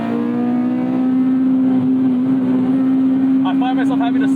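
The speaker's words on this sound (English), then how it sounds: "Gotta love hitting that rev limiter, the hard rev limiter on a proper Type R engine." A Honda K20 Type R four-cylinder engine, swapped into a car, holds hard against its rev limiter in a loud, steady high-pitched drone, close up from inside the cabin, with a few brief stuttering blips near the end.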